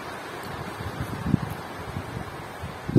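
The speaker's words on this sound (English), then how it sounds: "It's starting to get a bit windy now." Steady low wind rumbles outdoors at a campsite in North Wales, buffeting the microphone with soft gusts and a few louder thumps.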